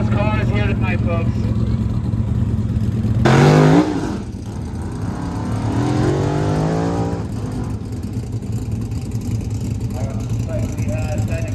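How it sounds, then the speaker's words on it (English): Loud drag race engines roar and rev steadily at night, with one car screaming past in a rising surge; a voice talks over the engine noise. "We got some fast cars here tonight,"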